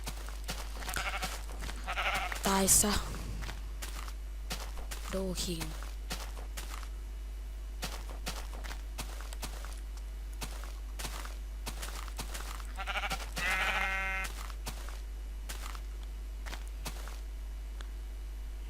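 Minecraft sheep bleats in short bursts among clicking footsteps and game effects, with a person talking over much of the play.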